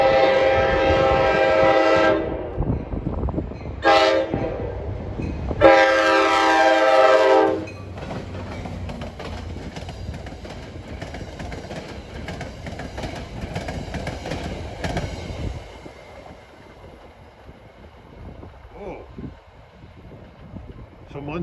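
A New Jersey Transit passenger train with a GP40 locomotive sounds its horn in several loud blasts at Ho-Ho-Kus station, then the rumble and clatter of passing railcars continue steadily before fading slightly.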